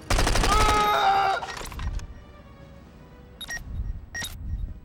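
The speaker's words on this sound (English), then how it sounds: "like with all this gunfire" Bursts of gunfire in the action video game 24: The Game, a dense rapid volley of shots in the first second or so, then sparse cracks and two sharp later bursts, loud and close.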